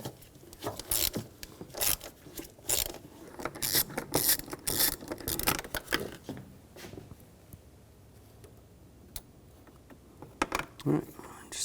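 A ratchet fitted with a 10mm socket backs a bolt out of a 2007-2013 BMW X5 3.0L inline-six during intake gasket work, giving bursts of close, sharp clicking that stop after several seconds, then quieter handling sounds.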